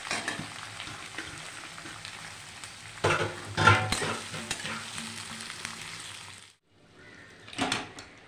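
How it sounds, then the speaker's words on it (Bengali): Chicken cooks in hot oil for biryani, a steady close sizzle with spoon scraping and clinks that briefly cuts out near the end before another burst of frying. "চিকেনটা রান্না করে নিচ্ছি বিরিয়ানির জন্যে।"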